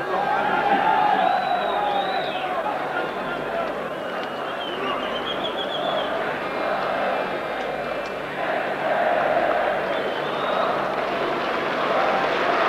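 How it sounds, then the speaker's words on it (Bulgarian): A large stadium crowd at a 1994 Levski versus CSKA football match applauds and cheers a substituted Levski player, a broad sustained roar with scattered whistles, under continuous commentary. "Станимир Стоилов получава аплодисменти на публиката за силната си игра в този матч"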